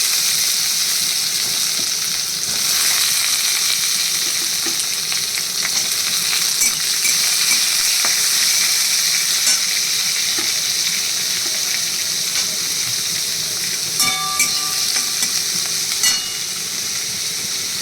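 Beans, carrot and capsicum fry in a pan with a loud, continuous sizzle and occasional scraping stir clicks, and no talk over it.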